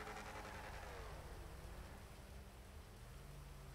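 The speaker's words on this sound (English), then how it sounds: "Oh, it's raining." Rain falling in the video game GTA V on the NoPixel roleplay server, a faint, steady hiss of rainfall that stays even throughout with no talking.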